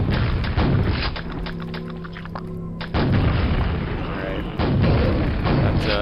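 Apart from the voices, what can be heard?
rocket launcher explosions in the video game Quake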